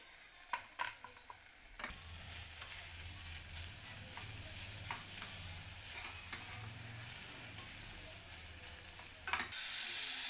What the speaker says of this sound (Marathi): त्यानंतर अख्खे मसूर घालून परतून घ्यायचा आहे